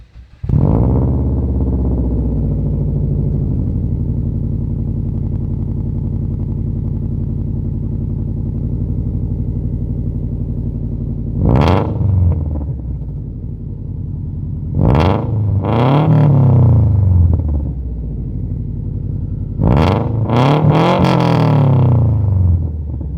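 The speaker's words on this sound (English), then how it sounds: "my favorite thing about this car is that exhaust and the way it sounds" Subaru WRX exhaust holds a steady droning idle, then breaks into three sharp throttle blips near the end, each rising and falling quickly. The sound is loud and close, with no talking.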